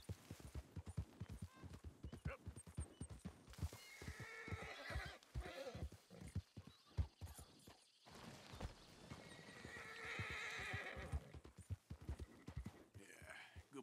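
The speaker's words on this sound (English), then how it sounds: "My horse is getting agitated." Steady hoofbeats clop along throughout, with a horse whinnying loudly twice over the rhythm, close and clear, in the video game Red Dead Redemption 2.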